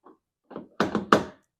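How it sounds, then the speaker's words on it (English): Car door locks actuated by an aftermarket universal keyless entry remote: a faint click followed by a run of four quick, close mechanical thunks from the lock actuators, with no talking. "Okay, so I'm going to lock it"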